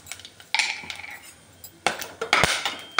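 Cinnamon, cloves and bay leaf fry in hot oil: brief sizzling bursts and metallic clinks of a spoon against the pan, close and fairly loud, without speech.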